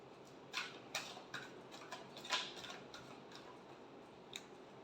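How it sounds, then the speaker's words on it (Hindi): Tarot cards being shuffled, giving a series of short, crisp riffling taps at an irregular pace, close and fairly quiet, with no voice. "last shuffle"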